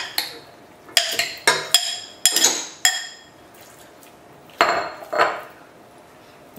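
Metal pots and utensils clink and clatter in a series of sharp, close knocks as salted beef is put into a pressure cooker, followed by a pause and two more clanks.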